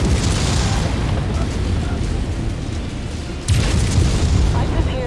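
Artillery bombardment in a video game: a steady, loud rumbling roar of explosions fills the whole stretch, with a heavier blast swelling in partway through and continuing to the end.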